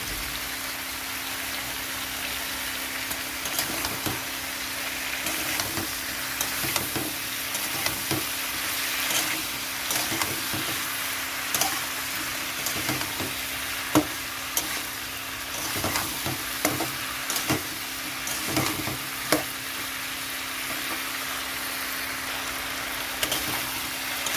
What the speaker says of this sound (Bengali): নুন হলুদ দেওয়ার পরে একটু এরকমভাবে কষিয়ে নিতে হবে।